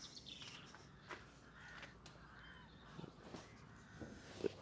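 Birds call outdoors in the United Kingdom, with crow-like caws and scattered chirps standing out at moderate distance over faint background ambience, with no talking.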